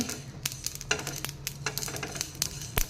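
Sharp, scattered crackles and pops of black and yellow mustard seeds sputtering in hot oil in a pan, irregular and close, over a low steady sizzle.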